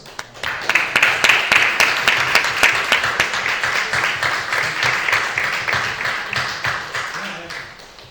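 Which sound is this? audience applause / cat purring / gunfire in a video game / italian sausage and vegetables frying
audience applause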